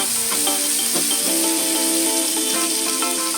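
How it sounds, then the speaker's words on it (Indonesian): Blended spice paste hits hot oil in a wok for a loud, steady sizzle and crackle, with a stirring utensil scraping and clinking through it, close up and without talk. "kita masukkan bumbu yang sudah tadi kita blender ya, kita masukkan semuanya ke dalam."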